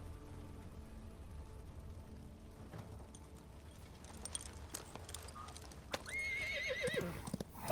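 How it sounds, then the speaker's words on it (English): A horse sound effect for a tabletop fantasy campaign: a quiet, busy bed of hooves and clatter builds toward a clear, shrill whinny near the end. "horse hooves charging towards you"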